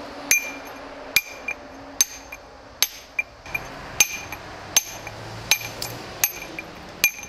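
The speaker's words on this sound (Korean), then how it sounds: "이 망치로 때리면서 여기 한 땀 한 땀 따내는 거예요." Hammer striking a steel chisel against stone during carving, a series of about a dozen sharp, ringing metallic taps at a steady, slightly uneven rhythm, close and clear with little else around.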